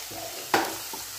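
Potatoes frying firm in a pan for a vegetarian pasta dish, a faint sizzle broken by one brief scrape of stirring midway through the short stretch.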